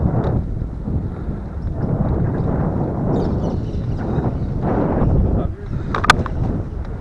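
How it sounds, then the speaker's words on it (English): A gentle breeze makes rumbling, gusting wind noise on an Apeman A77 action camera microphone, swelling and easing up close, with a brief sharp knock near the end. "I'm curious to see how much sort of wind sound this picks up. There's a gentle breeze."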